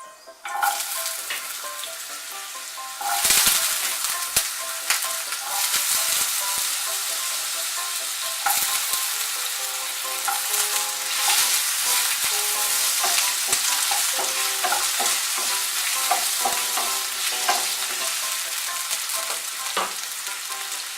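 Cut potatoes frying with fenugreek seeds in hot oil for a Bengali palong posto, a steady close sizzle broken by repeated scraping and stirring clatters of the spatula throughout.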